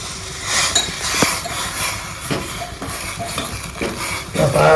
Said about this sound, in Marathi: आता आपले उकळत आहे